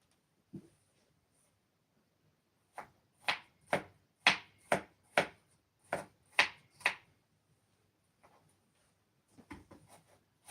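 A knife chopping onions on a board, about a dozen sharp knocks in a quick steady run, then a few scattered taps after a pause.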